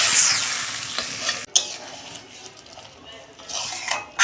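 Cashews being stirred into cooked chana dal with ghee and cumin in a pan, loud close scraping and clattering of a spoon against the pot in bursts, with a sizzle underneath and brief gaps.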